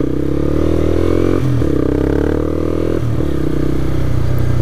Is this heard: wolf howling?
no